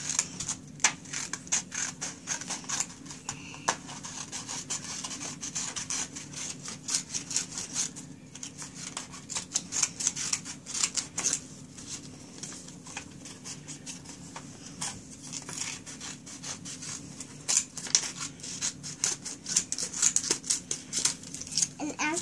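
Scissors snip around a paper circle for a snowflake, giving a steady run of small crisp cuts and paper rustles close by, with some soft voices now and then.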